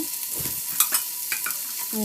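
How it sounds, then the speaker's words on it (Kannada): Scraping and stirring rice into tempering in a pan, with soft clinks of a spoon against metal and a faint sizzle running underneath, no voices. "ಮಾಡಿರೋ ಒಗ್ಗರಣೆಗೆ ಸೇರಿಸಿ ಮಿಕ್ಸ್ ಮಾಡ್ಕೊಳ್ತಾ ಇದ್ದೀನಿ"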